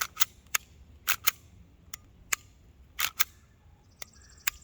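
An APS Shark 4.5mm CO2 pistol fires a quick string of sharp, snappy cracks, roughly a dozen shots coming in uneven pairs and singles over a few seconds against a quiet background.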